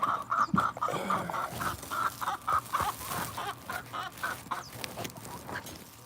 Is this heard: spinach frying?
no